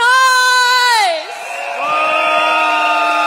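A crowd at a PAP campaign rally in East Coast cheers loudly, with a piercing whoop at the start followed by sustained shouts and high calls.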